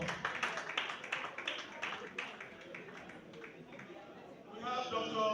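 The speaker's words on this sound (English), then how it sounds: "Round of applause." An audience at a Rotary Club investiture gives a round of applause, scattered clapping that thins out over a few seconds beneath an announcer's amplified voice.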